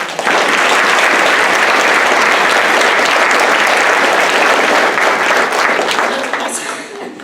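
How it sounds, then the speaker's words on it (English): Loud, sustained applause from a large crowd, steady throughout and tapering slightly at the very end. "Let's also give our host a round of applause."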